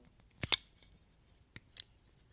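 A custom tanto folding knife locks up with a pair of sharp, close metallic clicks, followed a second later by two lighter clacks, in an otherwise quiet room.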